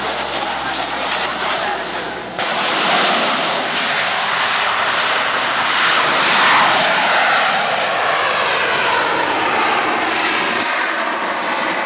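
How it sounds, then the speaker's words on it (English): A Lockheed C-130 Hercules turboprop roars loudly as it accelerates down the runway for a JATO takeoff at an airshow, a quieter drone swelling abruptly into a steady, powerful engine noise that holds throughout. "They'll accelerate to 140 miles per hour and simultaneously fire the JATO bottles and execute a high-performance climb with the aircraft."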